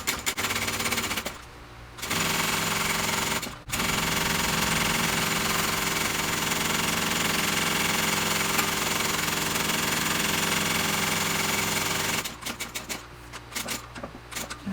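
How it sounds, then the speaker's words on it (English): A sewing machine top stitching backpack fabric runs in a fast, continuous mechanical rattle for long stretches, close and loud, pausing briefly and then stopping into short bursts of stitching near the end. "I'm going to top stitch it on the solid pink side, not the patterned"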